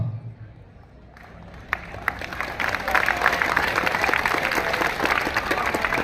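Students applauding at a school farewell celebration in Kandukur: after a quiet opening, a dense burst of clapping rises near the two-second mark and holds steady and fairly loud to the end, with voices mixed in.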